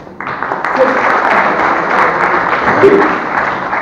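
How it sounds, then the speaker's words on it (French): Audience at a mathematics lecture breaks into steady, dense applause that starts abruptly and holds at an even level for several seconds, with no talking over it. "Je pense qu'il mérite d'être applaudi."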